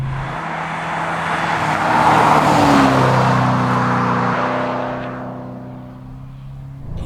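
A Maserati 3200 GT's powerful twin-turbocharged engine roars and revs nearby, swelling to a peak and then easing off as the tone shifts down.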